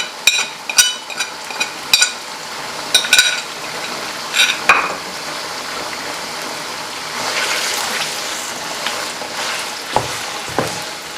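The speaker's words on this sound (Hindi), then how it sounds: "चिकन को अच्छी तरह पहले फ्राई करना है।" Large chicken pieces frying with salt in a pan for Irani chicken karahi, crackling and sizzling close by with scattered spoon clinks and scrapes, then a sustained hiss as the frying intensifies, no talking.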